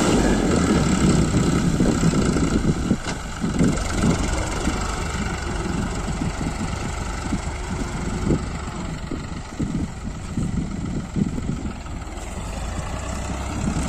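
Engine of a New Holland 5500 55hp tractor running with its bonnet removed, working a paddy field with a blade plough; a steady, rough, close low rumble continues throughout with no talk.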